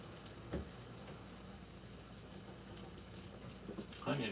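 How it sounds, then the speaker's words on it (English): Steady sizzling of food frying in a pan, a continuous crackling hiss with a couple of brief louder bumps. "Listen to the shizzle."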